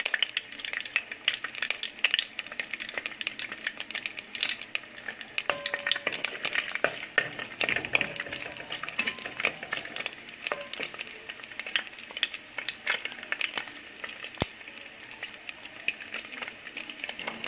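Okra stew stirred in a cooking pot, a continuous scraping and clattering of the spoon over a light sizzle, steady and close with no talking.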